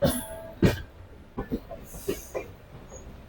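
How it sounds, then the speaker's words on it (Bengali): A Mumbai local train runs along the track with intermittent clanks and wheel squeals, sharp metallic knocks spaced irregularly over quieter rolling noise. "আর এই হচ্ছে মুম্বাই যান, মুম্বাই লোকাল"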